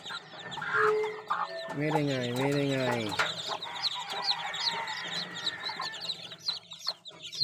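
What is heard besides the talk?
newly hatched chicks and chickens clucking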